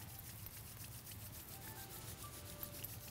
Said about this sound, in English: rub your hands and feet together